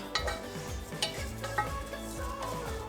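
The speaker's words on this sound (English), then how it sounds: "Spreading around the pot just to try and get it coated with the ginger and garlic." Jasmine rice stirred around a pot with ginger and garlic: a soft, steady sizzle with rhythmic scraping and light clinks of the spoon, close by.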